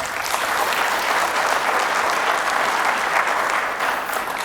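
Loud, dense applause from a large ceremony audience honoring Pan-African leader Samora Machel at a prize event in Ethiopia, sustained clapping from many people at an even level.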